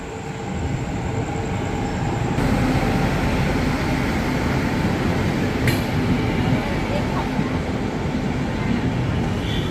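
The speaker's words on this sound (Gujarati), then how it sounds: "જો આવે છે ટ્રેન" A train pulling into a station, with a loud, steady rolling rumble that fills the whole stretch and stays close and continuous. Faint voices may sit beneath it.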